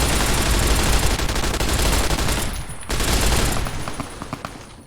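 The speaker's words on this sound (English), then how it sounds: "Do you want to know what this feels like, being shot with a machine gun?" Rapid automatic machine gun fire in Fallout: New Vegas, loud dense bursts of shots with a brief gap before a second sustained volley that tapers off.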